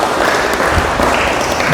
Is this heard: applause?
yes